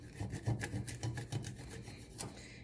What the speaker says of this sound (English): I'll even come in here and scrape